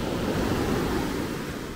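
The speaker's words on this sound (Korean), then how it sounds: "저 파도 소리 들리시죠?" Ocean surf breaks steadily on Natai Beach in Khao Lak, a continuous broad wash of rough waves with some wind noise, loud and close, with no voices.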